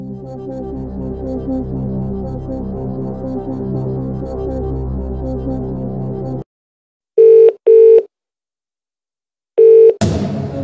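Phone-a-friend call being placed in the Who Wants To Be A Millionaire 2nd Edition DVD game: a low musical bed cuts off, then three short electronic rings or call tones follow with silent gaps between them, clear and close.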